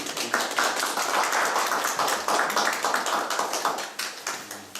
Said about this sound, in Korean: 우리 정승 목사님 나오시도록 큰 박수로 부탁드립니다